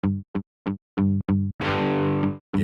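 PowerChord synth chords with velocity control and an adjusted release: five short stabs, then one long sustained chord that fades away, then a final stab. The chords are bright and distorted and play alone, close and loud.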